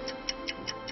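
A bomb's timer clock ticks in a steady rhythm, five crisp, evenly spaced ticks about every fifth of a second over a faint background hum.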